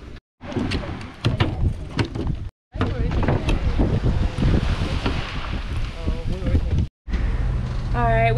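Sailboat running wing on wing in light wind, with gusty wind buffeting the microphone, water rushing along the hull and some speech mixed in.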